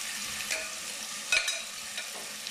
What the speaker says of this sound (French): je vais mettre les épices aussi avec un petit peu d'eau. Et puis je vais laisser mijoter